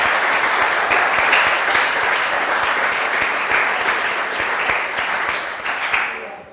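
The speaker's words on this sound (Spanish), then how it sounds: "Denle un aplauso al Señor" Church congregation applauding during a worship service, sustained dense clapping filling the whole stretch at steady loudness before tapering slightly at the end.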